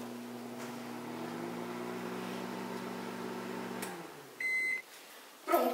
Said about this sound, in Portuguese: Então a gente vai colocar no micro-ondas só pra dar uma aquecida